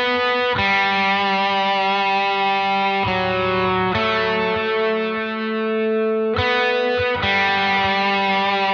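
Suhr Custom T electric guitar played through an ODR-1 overdrive pedal: warm, overdriven chords strummed several times and left to ring out, heard up close with no talking.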